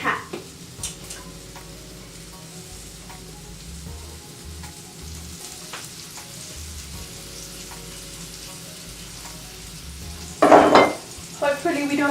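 Onions frying in oil in a pan on the stove, a steady close sizzle with occasional stirring scrapes and a louder burst of crackle near the end.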